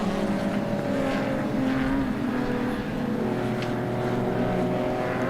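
A field of classic racing cars, including a BMW 325i, cruises past during a circuit race. Their engines drone loud and steady, with tones rising and falling as the cars pass, and no one speaks.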